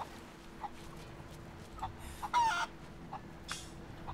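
A chicken in a video game clucks in short, scattered bursts over a steady low hum, with one louder squawk near the middle, and no talking.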